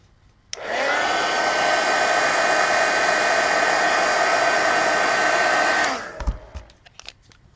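A hair dryer drying paint on a small art card switches on with a loud steady whoosh and blows for about five seconds before cutting off, followed by a few light handling clicks.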